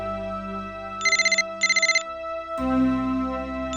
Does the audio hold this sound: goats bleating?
no